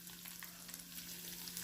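Urad dal, red chillies and asafoetida fry in hot oil for a tempering, giving a faint, steady sizzle and crackle with a low electrical hum underneath and no voices.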